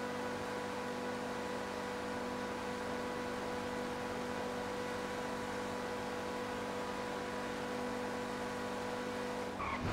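A LaFerrari in a racing video game speeds in reverse, its engine holding a loud, constant high-pitched whine with steady tonal harmonics throughout, ending in a brief sharp clatter.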